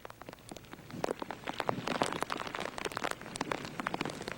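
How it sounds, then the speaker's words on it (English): Heavy rain from Hurricane Ida pours down outdoors, a dense, steady patter of drops hitting surfaces with crisp splashes throughout, fairly quiet overall with no voices. "Brian, we can see that rain coming down where you are right now"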